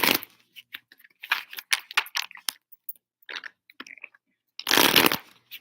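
Tarot cards being shuffled by hand, crisp riffling and sliding bursts in short irregular clusters, close and fairly quiet, ending in a louder dense burst of card noise.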